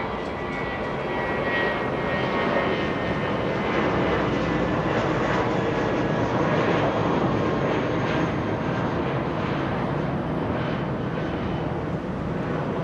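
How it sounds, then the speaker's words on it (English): A Spirit Airlines jet passes at Los Angeles International Airport. Its engines make a loud, sustained roar that fills the whole stretch at a steady, even level. "One more Spirit Airlines coming up."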